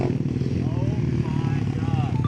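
A motorcycle on a group ride pulls a wheelie, its engine droning loud and steady with rising and falling pitch as it revs, while people talk over it.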